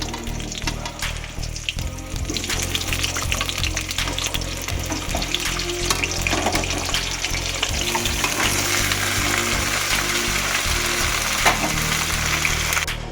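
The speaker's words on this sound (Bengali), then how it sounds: "এরপরে দেখো আমি এই সবজিটাকে একটু ভেজে নেব" Vegetables frying in a kadai after spiced chillies and tempering, a loud continuous sizzle with occasional stirring scrapes close by, and no talking.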